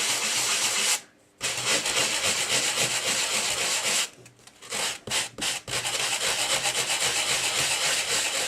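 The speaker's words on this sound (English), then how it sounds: "sanding block, and we're just going to" A sanding block rubs in a circular motion across a handmade greeting card, a loud, close, continuous scratchy rasp broken by a few short pauses as the block lifts, with no voices.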